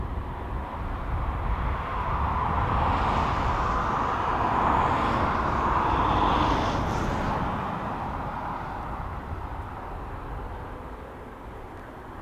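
A jet airliner taxis past at East Midlands Airport, giving a broad, steady engine roar that swells toward the middle and eases off slightly at the end. No voices are heard over it.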